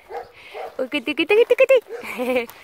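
A dog barks in a quick run of sharp, close, loud yelps, several in rapid succession, with a voice mixed in around them.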